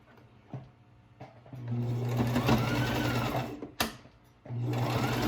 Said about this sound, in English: So I am back stitching for an extra layer of assurance.